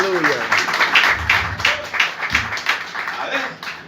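A church congregation applauds as an offering of praise, a rippling crowd of clapping in a reverberant hall that rises and fades in waves, with voices calling out over it.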